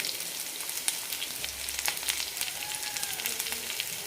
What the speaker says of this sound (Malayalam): നന്നായി വഴറ്റാം സവാള നന്നായി ട്രാൻസ്പാരൻ്റ് ആയി കിട്ടണം അതുവരെ വഴറ്റിയെടുക്കാം